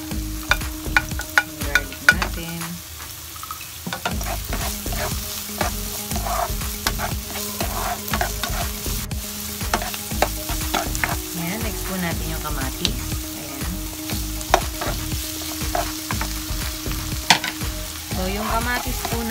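Garlic sizzles and crackles in a hot pan while being stirred for ampalaya with sotanghon, a steady loud frying hiss with frequent sharp spatula scrapes and clacks throughout.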